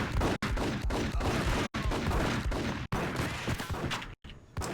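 Sharp, loud gunshots ring out in rapid succession, aimed at Rico Muerte, a big-time hustler, forming a dense fusillade of repeated bangs across several seconds with brief breaks and no talking.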